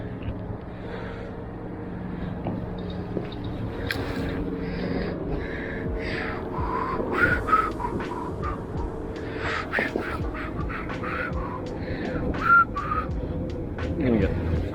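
Outdoors on a street, a person whistles a tune in scattered phrases over steady traffic and ambient noise, close to the microphone.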